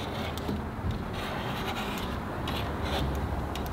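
A small razor blade scrapes window tint film off glass in a tight corner. The scraping is a faint, continuous, gritty rub with light strokes and no voices.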